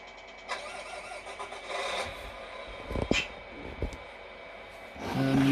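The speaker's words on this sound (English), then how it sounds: "let's start the engine." A Tamiya MFC-03 sound unit in a radio-controlled Scania T-cab V8 truck model starts up with a cranking, rasping burst followed by a simulated engine rumble, heard up close with no talking.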